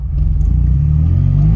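A vintage Ferrari with a manual gearbox pulls away from a stop, a deep close engine rumble swelling as the clutch bites and the car rolls off.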